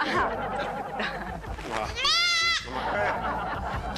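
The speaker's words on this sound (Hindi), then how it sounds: "ये बकरी का बच्चा" A young goat bleats once, a clear wavering cry close by, amid a busy background of people talking.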